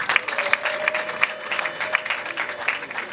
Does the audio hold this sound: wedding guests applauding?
yes